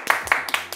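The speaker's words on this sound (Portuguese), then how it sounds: "Palmas para o Kemba Walker!" A few quick hand claps, roughly four sharp bursts spaced evenly over under a second, close and fairly loud, from a basketball commentary setting celebrating Kemba Walker's Hornets scoring record.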